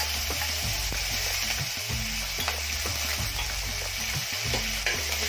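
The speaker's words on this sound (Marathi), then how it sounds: "आता त्यात टाकायच्या हिरव्या मिरच्या, लाल मिरच्या आणि हा सगळं कढीपत्ता टाकायचा." Green chillies, red chillies and curry leaves crackling in hot oil for masala chana sundal, a dense steady sizzle over a quick rhythmic run of low knocks and scrapes from stirring in the pan.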